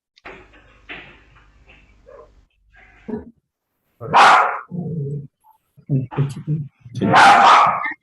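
A puppy barks in a few loud, sharp bursts amid talk during an online meeting, with people speaking before and between the barks.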